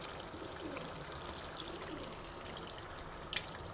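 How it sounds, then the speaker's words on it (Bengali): A small amount of water is poured into a pointed gourd and fish curry, a soft continuous trickle and splash heard close by and quietly, with no talk. "তার আগে আমি একটু সামান্য জল দিয়ে দেবো"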